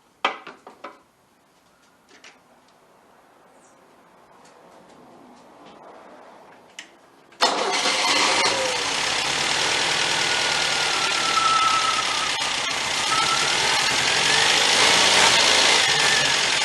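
A 1977 MGB engine with a Weber two-barrel carburetor running rich: a few clicks and taps, then the engine catches abruptly and settles into a loud, steady idle close by.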